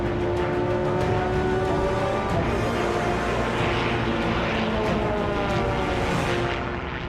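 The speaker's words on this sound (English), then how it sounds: "It's called Aero GP, an airborne version of Formula One." Racing airplanes in an Aero GP air race, an airborne take on Formula One, make a loud, continuous engine roar that stays strong throughout and thins slightly toward the end, with no voices.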